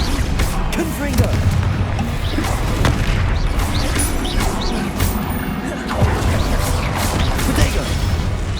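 Confringo explosive spells from combat in the video game Hogwarts Legacy blast again and again: loud, dense booms and crashes packed close together amid busy battle noise.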